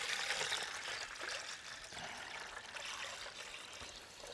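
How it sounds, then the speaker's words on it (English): Two litres of water being poured into a container for brining baby back ribs and other meat for hot smoking, a continuous splashing pour that runs steadily for several seconds, close and fairly loud. "And then let's put our 2 litres of water in."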